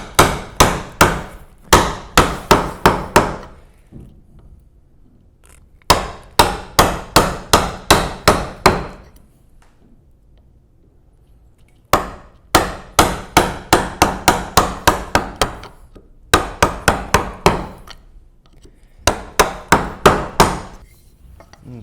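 A chisel chopping wood on a Moravian workbench, with bursts of rapid, sharp mallet-driven strikes in groups of five to ten, separated by brief pauses, loud and close.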